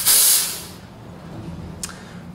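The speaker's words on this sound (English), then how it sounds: "I put my milk down to let it relax, and while it's relaxing, I might as well clean my steam arm" Steam arm on an espresso machine blasting a loud hiss for about half a second while being cleaned, then a quieter room hum and one short second puff of steam.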